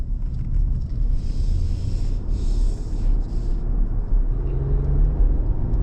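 A long-wheelbase ute rolls over a rough road, a steady loud low rumble and whir of engine and tyres with wind buffeting, continuous throughout with no talk.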